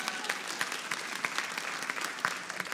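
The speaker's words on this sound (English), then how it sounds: "Let's give that a round of applause." Applause from a small audience at a panel discussion on equity in women's football, a moderate clatter of hands with sharp individual claps standing out, alone and steady for a few seconds.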